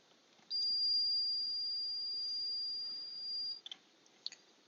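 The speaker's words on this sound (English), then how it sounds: "So if you reset it, the buzzer will play." Buzzer on a homemade fire alarm panel sounds one steady high-pitched tone for about three seconds after the panel is reset, then cuts off, followed by a few short clicks or chirps.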